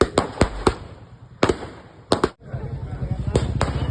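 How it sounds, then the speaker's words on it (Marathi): Fireworks burst at a cricket trophy celebration, sharp cracks coming in irregular clusters over a steady crowd murmur, loud and nearby. "यावेळी फटाक्यांची आतिषबाजी करण्यात आली"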